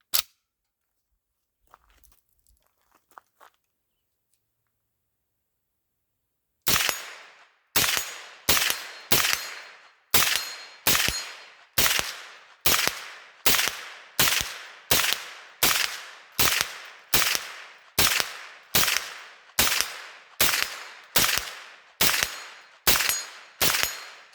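Heckler & Koch HK94 9mm rifle fired outdoors on a wooded hillside: after a quiet stretch with faint handling noises, a steady string of about twenty sharp, loud single shots cracks out at a regular pace, each with a brief decay.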